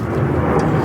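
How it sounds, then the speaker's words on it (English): A fixed-wing airplane passes overhead during work on a 1940 Ford COE custom rollback truck, its loud, steady engine drone filling the whole moment. "Can you turn that airplane down? We're filming."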